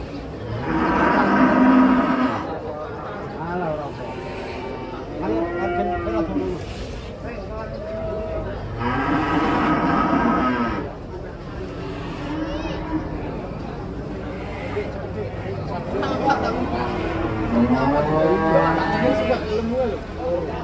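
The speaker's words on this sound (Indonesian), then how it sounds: "Detik-detik penurunan sapi ngamuk." Cattle being unloaded from a tilting truck moo repeatedly in long, loud bellows, several animals calling over one another while people chatter and shout nearby.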